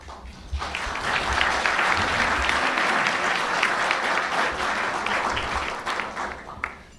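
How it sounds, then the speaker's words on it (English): Sustained applause from a press club luncheon audience fills the room for about seven seconds, steady and dense, rising quickly and tapering near the end. "Now you can applaud."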